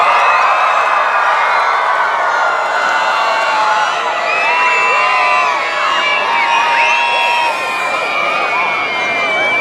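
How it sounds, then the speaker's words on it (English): A large group of children shouts and cheers together outdoors, loud and sustained, with overlapping high-pitched whoops and excited voices close by. "Let's all have a cheer for all of you. Give yourselves a cheer."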